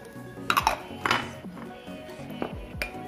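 A spoon clinks and scrapes against a bowl while doughnut dough ingredients (salt, powdered sugar) are stirred together, making a few quick ringing taps and scrapes close up.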